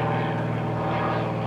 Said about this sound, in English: Gotta get the airplane noise in here somewhere.